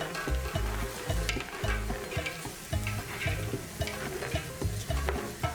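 Meat sears in a pot for feijoada with a steady, close sizzle, under repeated low knocks and scrapes of stirring.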